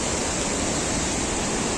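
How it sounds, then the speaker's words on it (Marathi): Steady, dense roar of Napne waterfall in Sindhudurg, Maharashtra, loud and close, with no pauses or voices over it. "धबधबा"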